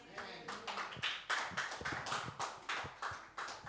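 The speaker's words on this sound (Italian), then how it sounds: "Diamole un applauso al Signore." A church congregation claps along in a steady rhythm during a lively Italian worship service, with voices and singing mixed in under the beat.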